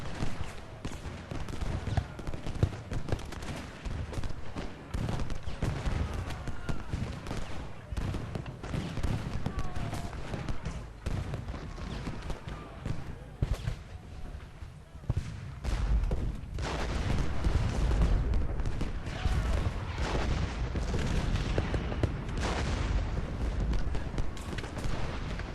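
Musket and artillery fire from a Gettysburg battle in Ultimate General: Gettysburg, dense overlapping volleys of crackling shots and deep booms rolling on continuously, heavier rumbling in the later part.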